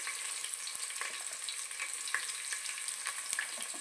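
Onions and green chillies fry in a pan for chicken pulao, giving a steady, close sizzle with occasional stirring clicks and scrapes throughout.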